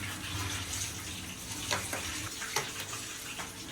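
Meat curry cooking in a pan, a soft continuous sizzle and bubbling with occasional stirring scrapes and clinks, fairly quiet and close.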